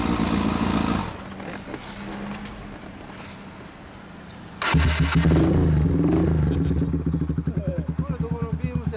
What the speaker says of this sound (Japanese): これ社外のエイプ用のマフラーです。